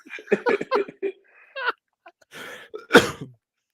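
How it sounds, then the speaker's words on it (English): A few short bursts of vocal sound, ending in one loud, sharp cough-like burst close to the microphone. "Don't make me laugh, folks. You make me cough."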